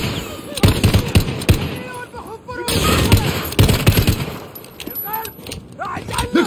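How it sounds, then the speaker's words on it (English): Rapid bursts of automatic gunfire and single shots in the Call of Duty: Modern Warfare video game, loud and repeated amid shouted voices and combat noise. "The gunshots, of course."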